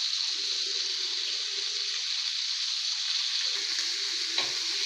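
Onions sauté in a pan with black pepper and cinnamon, giving a loud, continuous close-up sizzle with light stirring scrapes and one brief clunk near the end, and no voices.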